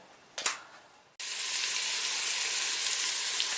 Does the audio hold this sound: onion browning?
yes